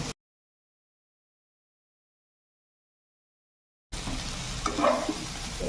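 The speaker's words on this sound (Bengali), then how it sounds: "এবার একটু নাড়াচাড়া করে নিই" Mixed vegetables for a vegetarian curry are stirred as they fry in a pan. Near silence gives way to close scraping and sizzling for the last couple of seconds.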